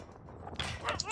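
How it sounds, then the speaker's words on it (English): Sled dogs at a camp kennel in the video game The Pale Beyond give a brief yip and short bark, faint and close together in a quick burst. "Dogs."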